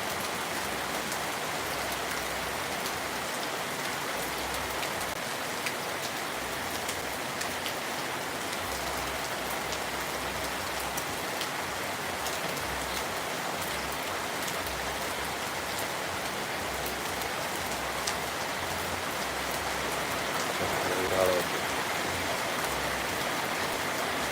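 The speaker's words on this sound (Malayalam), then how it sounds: "മഴ തോരാതെ നല്ല തകർത്ത് പെയ്യുകയാണ്" Heavy, unbroken rain pours down steadily in a morning downpour, a dense, even wash of drops hitting surfaces with no letup from start to finish.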